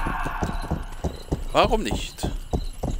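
Horse hooves clip-clopping in the video game Rustler, a steady trotting rhythm of hoof beats with a brief whinny in the middle, while someone talks over it.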